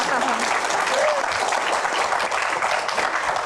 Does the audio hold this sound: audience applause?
yes